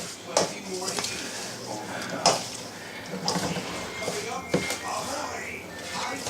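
Coleslaw dressed with mayonnaise is stirred in a bowl, giving repeated wet scraping and clinking sounds at close range, with a few sharper knocks, over a steady background.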